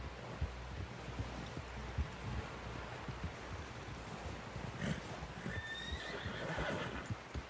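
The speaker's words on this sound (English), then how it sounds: "Someone help John down off this horse." A horse in Red Dead Redemption 2 gameplay whinnies loudly over a steady background of hooves clip-clopping and wind, with a rising neigh near the end.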